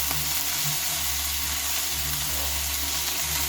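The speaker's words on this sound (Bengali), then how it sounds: "শাকটাকে এবার একটু আমি ভালোভাবে নেড়ে চেড়ে নেব" Drumstick greens stir-fry in a hot pan, giving a steady, close sizzle with soft stirring scrapes throughout and no talking.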